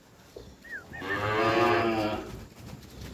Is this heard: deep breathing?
no